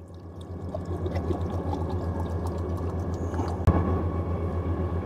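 Water pours steadily into a container to mix a scoop of Oxy Shred supplement drink, a continuous close trickle over a low background hum.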